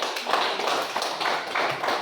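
A congregation claps together in a rhythmic pattern at an Indonesian Catholic religious session, bursts of hand claps repeating in regular groups, moderately loud and close.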